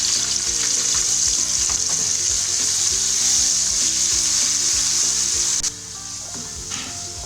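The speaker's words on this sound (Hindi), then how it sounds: "अब ये मेरे पास लहसुन अदरक का पेस्ट है, इसको मैं फ्राई कर लेती हूँ।" Garlic and ginger paste sizzles loudly in hot ghee after onions were fried in it, a steady dense crackle with occasional stirring clinks, dropping a little quieter near the end.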